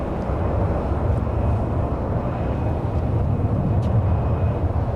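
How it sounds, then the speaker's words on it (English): A jet airliner takes off at Dallas Love Field, producing a loud, steady broadband engine roar that holds without a break for the whole stretch. "Jets don't need a lot of runway to get launched, do they?"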